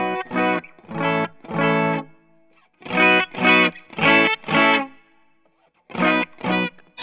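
Distorted electric guitar played on the bridge pickup through a Funny Little Boxes 1991 overdrive pedal, in short strummed chord bursts separated by silent gaps, with gritty sustain on each hit.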